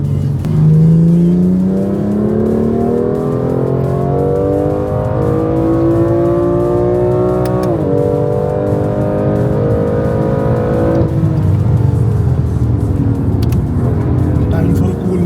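A 1,700 hp Audi R8 V10 races on a track, its engine loud and close, revving steadily upward in pitch with two brief dips at gear changes, and some talk over it.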